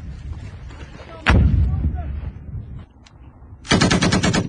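Incoming enemy fire on Royal Marines in Afghanistan: a heavy nearby blast, scattered cracks and pops, then a loud rapid burst of automatic gunfire at the end.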